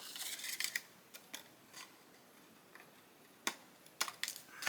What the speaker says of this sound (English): Just want to cut that right across.